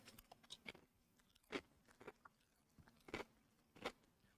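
Crunchy salsa-flavored twisted corn snacks being chewed close up, a series of sharp crisp crunches and bites at an irregular rhythm, fairly quiet, with no talking.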